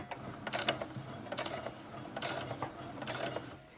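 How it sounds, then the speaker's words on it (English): A domestic sewing machine stitches backward a few stitches and then forward along a felt seam, giving a quiet, steady mechanical whirring with rhythmic ticking of the needle, close and alone with no talk. "I'm going to hold down my back stitch button and go back a few stitches. Then I'm going to go forward."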